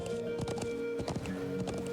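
Quick clip-clop of horse hooves during riding in the Trails of Cold Steel role-playing game, a steady trotting rhythm, fairly quiet, with a sustained tone from the game behind it.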